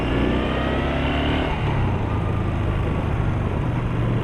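A Star (Yamaha) Bolt motorcycle accelerates in first gear, its engine note rising loud and close throughout with steady wind rush and no talking.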